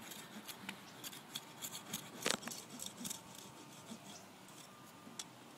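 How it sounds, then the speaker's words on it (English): Close, quiet cutting and scraping at a root down in the soil beside a rear fence, short rasping strokes in an irregular rhythm with brief pauses. "there's a root down in here, so I'm gonna cut away at this root if I can"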